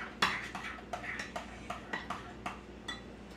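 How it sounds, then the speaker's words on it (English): Utensil stirring shrimp dinner salad ingredients in a bowl, a close series of light clinks and scrapes at a steady, unhurried pace with no talking. "Go ahead and stir that in."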